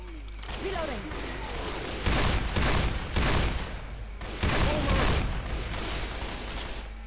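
Bursts of gunfire in the Left 4 Dead 2 video game, loud rapid volleys in several clusters over steady background noise, with brief talk near the start.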